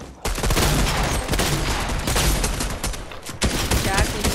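Rapid pistol gunshots in a video game crack out in quick succession, loud and close, forming a dense volley with a brief pause before more shots follow.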